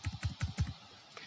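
Keys tapped on a computer keyboard while working in an Excel spreadsheet, a quick close run of about eight soft keystrokes, then quiet.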